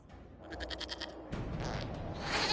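Goat in Dragon Age: Inquisition bleats in a rapid quavering burst, then a second harsher bleat follows over low rumbling game ambience.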